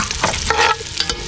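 Garlic and onion sautéing in a pan outdoors, a close, steady sizzle with a few scraping stirs of a utensil across the pan, no voices.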